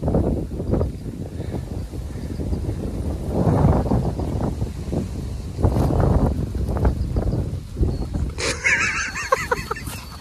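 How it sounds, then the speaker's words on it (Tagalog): Gusty wind buffets the microphone in steady low rumbles, with geese honking intermittently and a brighter burst of noise near the end. "Mahangin kasi no?"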